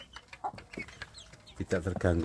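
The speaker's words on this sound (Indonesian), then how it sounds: "Jadi kalau memberi makan anak ayam kampung di tempat pembesaran ini praktis ya, praktis." Young kampung chicks in a rearing pen cluck and peep while feeding: scattered soft calls that build into louder, closer chirps at the end.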